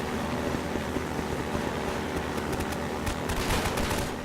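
Gunfire in the Half-Life 2 video game: a dense, noisy barrage with a cluster of sharp shot cracks in the second half, all over constant loud background rumble.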